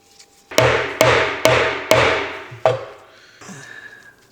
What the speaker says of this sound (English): push that, tap that down